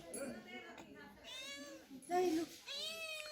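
A hungry cat meows repeatedly near a person in a home in Sarkaghat, Himachal Pradesh: several plaintive, rising and falling meows, fairly quiet and close, with a person speaking between them.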